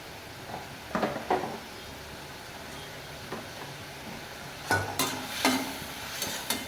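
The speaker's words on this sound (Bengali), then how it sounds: "চিংড়ি মাছটা যে ভেজে রেখেছিলাম এতে দিয়ে আমি কষাতে থাকবো।" Fried shrimp stirred in a pan while cooking down for a spinach curry, a low sizzle under intermittent scraping strokes of a spatula against the pan.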